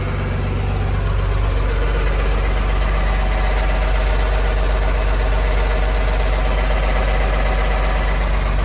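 A 1992 John Deere 4055 tractor engine idles loud and close, a steady low diesel rumble that holds even throughout with no voices.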